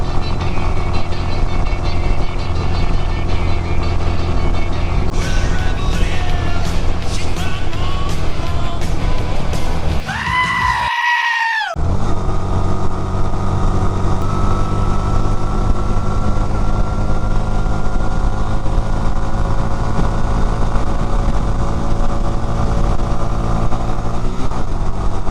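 A small Honda Rebel 250 motorcycle rides along with a steady engine drone and wind rush, its pitch shifting briefly around a short interruption midway before continuing loud and close.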